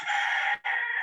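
A chicken calls nearby in two loud, drawn-out crowing or clucking bursts separated by a brief gap, standing out clearly over a quiet indoor background.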